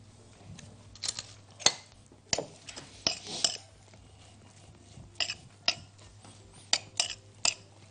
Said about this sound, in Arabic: نقلب عندنا السلطه ديت